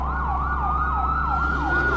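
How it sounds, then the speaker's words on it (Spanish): Several emergency sirens from police patrol cars and an ambulance wail together in a rural valley, rising and falling in steady repeated sweeps. The sirens stay loud and continuous over a low road rumble, with no voices. "el rugido repentino de las sirenas rompió la calma del valle"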